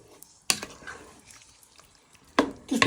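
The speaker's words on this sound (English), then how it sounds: "Give that a good stir in so anything on the bottom will come up" A spoon scrapes and clatters against a pan while beef stock is stirred in, a few sharp, close metallic knocks separated by quiet stretches of faint sizzling.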